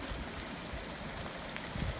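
North Cheyenne Creek flows along a hiking trail near Gold Camp Road, a steady, close rushing of water that fills the clip without pause.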